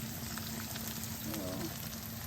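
Bitter gourd frying in hot oil, a soft continuous sizzle and bubbling at low level with a faint stirring scrape partway through.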